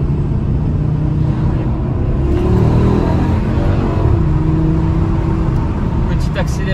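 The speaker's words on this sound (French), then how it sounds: "Petite accélération jusqu'à 80." Audi RS3 accelerating up to 80 km/h, heard as a steady loud low engine drone from inside the car that swells slightly midway, with no talk over it.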